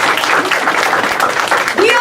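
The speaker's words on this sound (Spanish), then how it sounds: "Denle un fuerte aplauso al Señor." A church congregation bursts into loud, close applause for the Lord, dense clapping mixed with raised voices and shouts running the whole length.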